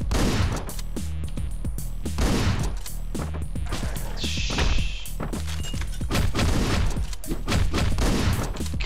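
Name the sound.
gunfire in the video game Hotline Miami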